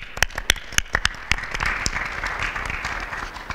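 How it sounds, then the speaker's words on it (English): Scattered clapping breaks out from an audience, starting as a few distinct sharp claps that quickly blend into a brief, moderately loud round of applause. "That deserves a round of applause."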